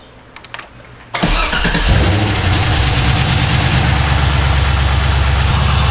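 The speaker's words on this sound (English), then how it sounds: "Let's start the car and see if it's charging at a rate higher than that." A Nissan 240SX with a V8 swap and a new battery cranks briefly, then fires up with a sudden loud roar that settles into a steady, close, throbbing idle.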